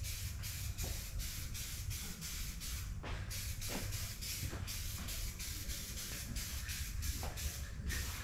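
Spray paint misted from a distance onto a car part for a 1993 white Foxbody notchback, a steady soft hiss broken by short pauses between passes.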